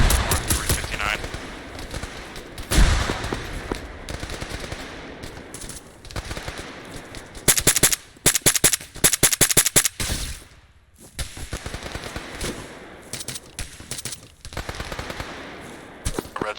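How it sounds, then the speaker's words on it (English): In the Arma 3 combat game, a PKM machine gun rips out loud repeated bursts, mixed with other scattered gunfire and brief shouted talk over a noisy battlefield. "PKM fire north 359"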